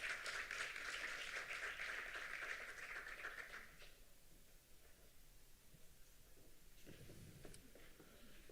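A conference audience at an international colloquium on age-friendly communities claps together; the steady applause is fairly faint and fades out after a few seconds into quiet room noise.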